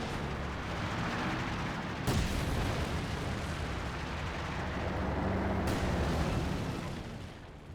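Artillery barrage in Company of Heroes, a continuous rumbling wash of distant explosions and booms with sharper blasts breaking through, loud and sustained without speech.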